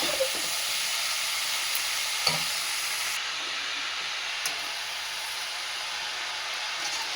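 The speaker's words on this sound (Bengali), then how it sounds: "এবার দিয়ে আমি এই বাঁধাকপিটা দিয়ে দেবো" Chopped cabbage hits a hot pan for a Bengali katla fish head cabbage ghonto, giving a steady, loud, close hiss of sizzling with a couple of faint knocks and no talking.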